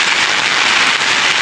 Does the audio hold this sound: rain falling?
yes